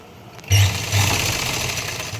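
A sewing machine stitching a pocket onto a salwar starts up after a brief pause and runs in a close, steady mechanical whir, alone without talk.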